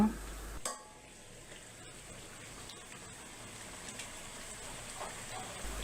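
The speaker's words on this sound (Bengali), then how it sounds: "এখন ঢাকনা তুলে নাড়াচাড়া করে দিচ্ছি" Cooked chicken being stirred in a pot after the lid comes off, with an opening clank followed by a soft, continuous bubbling sizzle and occasional faint scrapes.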